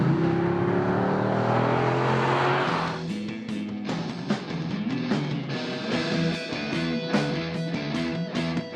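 Chevrolet SS four-door muscle car, built in Elizabeth, South Australia, accelerates hard: the engine's pitch rises in a long pull, then crisp rapid upshifts and burbling revs follow, loud and close, no voices.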